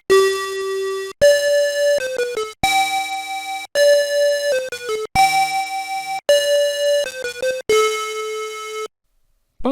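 A TI-99 home computer plays a Star Wars tune in bright synthetic three-voice chords, each note slightly detuned for a shimmering, beating tone, in clean phrases with short gaps and no talking.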